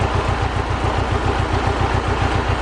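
A Mercedes 190E with the M102 four-cylinder engine idles roughly on worn-out mounts, a close, loud, steady low throb with an even pulsing rhythm and a faint clattering edge.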